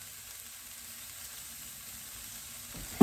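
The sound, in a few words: chicken searing in pan for cashew chicken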